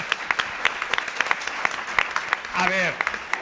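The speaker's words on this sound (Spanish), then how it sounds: "Una ovación, una ovación." Sparse, scattered handclaps from a theater audience at a play in the Roman Theatre of Cartagena, uneven single claps rather than a full ovation, with a voice briefly speaking near the end.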